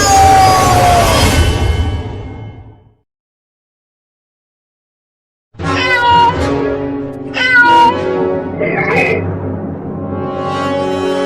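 A cat meows loudly in drawn-out, wavering cries, goes silent for a couple of seconds, then lets out several more strained yowls close by.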